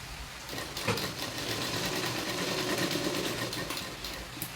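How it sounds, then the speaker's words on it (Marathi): Sewing machine stitching a V-neck blouse, a steady, even whirring hum held close and unbroken for the whole stretch with no talk. "या पद्धतीने मी पूर्ण शिलाई करून घेते"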